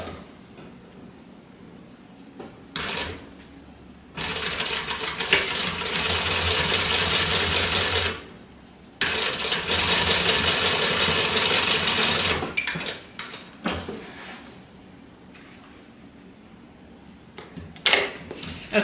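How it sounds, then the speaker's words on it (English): A sewing machine stitches across a backpack shoulder strap seam in two long, fast bursts of steady whirring. Shorter start-and-stop runs and brief handling clicks come before, between and after the bursts. No talking is heard. "I'm going to sew across at 1/4 of an inch seam allowance, all the way from edge to edge"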